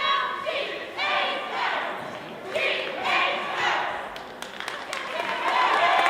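High school girls basketball crowd at Chambersburg at Gettysburg chants in rhythmic bursts, voices rising together roughly every second or two in a spelled-out cheer over a steady gym din.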